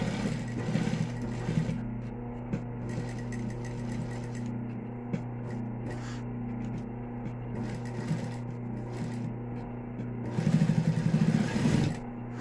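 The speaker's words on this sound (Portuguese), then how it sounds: "Passar uma costurinha aqui bem na pontinha," A home sewing machine stitches along the edge of a small mini-backpack keychain coin purse in short runs of rapid whirring, pausing between bursts and ending with a louder final run.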